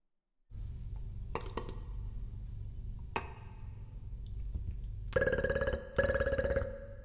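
A human beatboxer imitates Skype notification and ringing tones with his voice, producing a steady droning tone punctuated by sharp ping-like clicks and, near the end, two bright bursts of chiming ring sounds.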